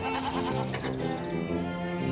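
Goats bleat in a wavering, nasal call on a farm, repeated in overlapping cries up close and fairly loud, with no talk over them.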